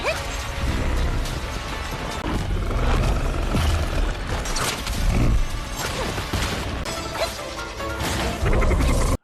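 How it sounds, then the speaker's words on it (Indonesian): A stone golem is smashed apart in a film fight, loud dense crashing and grinding debris with heavy impacts running continuously throughout. "hanya dengan beberapa gerakan saja, boneka batu langsunglah hancur lebur"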